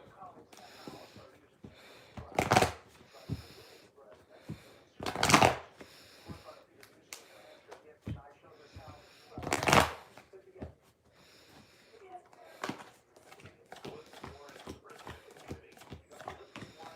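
Tarot cards being shuffled by hand during a live reading: three distinct crisp riffling bursts a few seconds apart, separated by quieter handling and rustling, with a voice talking faintly at times.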